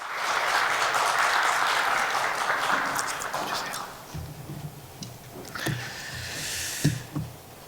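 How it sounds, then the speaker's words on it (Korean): A congregation applauds during a Christmas Day church service, with full clapping for about four seconds that then dies away, giving way to a voice and scattered low sounds. "박수 올려드리겠습니다."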